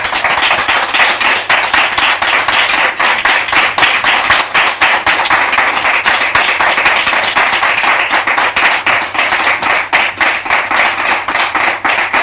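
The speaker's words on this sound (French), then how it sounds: "Merci de recevoir la prophétesse sous vos applaudissements," A television studio audience gives a loud, sustained round of dense applause to welcome a prophetess onto a talk show set, clapping steadily without pause.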